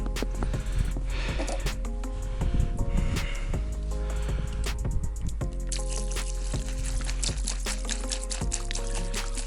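Gasoline pouring into the fuel tank of a motorized tow-dog with a removable engine, a continuous liquid trickle and gurgle with small drips and clinks, close and fairly loud, without speech.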